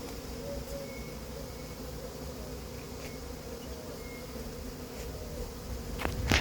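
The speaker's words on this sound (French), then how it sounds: "c'est un essaim qu'on a récupéré à Draveil ce matin" A swarm of honeybees collected that morning in Draveil hums in a steady, dense drone that carries on without a break and swells slightly louder near the end, with no voices.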